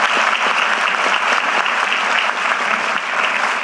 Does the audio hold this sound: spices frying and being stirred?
no